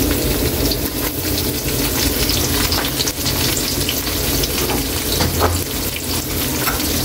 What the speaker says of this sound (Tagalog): Ilagay na rin natin yung sibuyas Kaylee